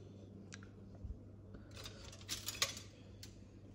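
Metal cutlery, including a knife, chopsticks and spoons, is handled and set down at a Sunday party meal in Vietnam, with scattered light clinks and taps building to a brief cluster of bright metallic clatter, close and fairly quiet, with no talking.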